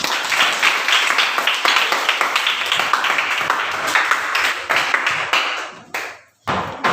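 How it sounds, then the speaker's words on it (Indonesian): A classroom of children claps together, a loud, rapid patter of many hands that stays dense for several seconds, then thins into a few scattered claps and stops abruptly before a final brief noise. "Mari tepuk tangan."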